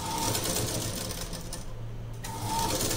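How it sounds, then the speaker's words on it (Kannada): Sewing machine stitching along the lining side of a blouse to add piping, a steady close motor whir with rapid needle clatter that briefly slows mid-run and then picks up again. "ಲೈನಿಂಗ್ ಕಡೆಯಿಂದ ಸ್ಟಿಚ್ಚನ್ನು ಹಾಕಿ"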